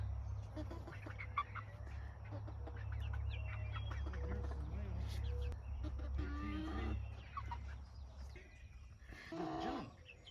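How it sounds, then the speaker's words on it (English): Chickens cluck and murmur inside a coop on a hot day, a steady close fowl chatter over a constant low hum, with a few louder squawks near the end. "I'm in here in the chicken coop."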